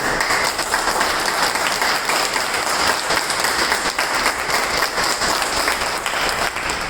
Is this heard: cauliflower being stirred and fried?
no